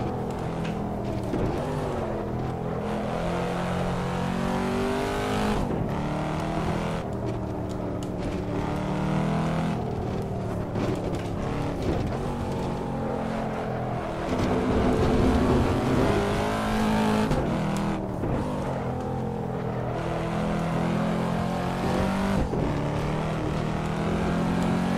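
A Corvette C7 Stingray engine in the racing game Assetto Corsa revs hard and steadily for the whole stretch, climbing and dropping through gear changes, loud and close with no talk.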